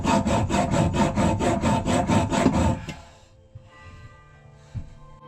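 A hacksaw rips through a wooden cabinet in fast, even back-and-forth strokes, loud and close, about a dozen rasping passes, then the cutting stops and only faint knocks follow.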